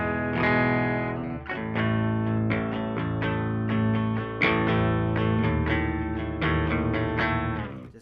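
Baritone guitar, a Squier Baritone Jazzmaster, run through a POG octave pedal for a glassy, layered tone: sustained chords with stacked octave shimmer, struck anew every second or so, loud and steady with no voices.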